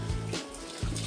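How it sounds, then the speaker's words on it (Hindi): Soaked rice, 1200 grams, is poured into hot water for a beef pulao, giving a close, steady rushing and trickling splash that briefly dips before resuming. "पानी गर्म हो चुका है। अब डालने लगे हैं चावल।"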